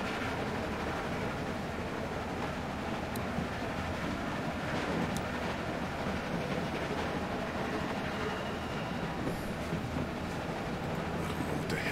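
A train runs steadily in The Walking Dead video game, a constant loud rumbling roll with faint rhythmic clatter that continues without pause, with no speech over it.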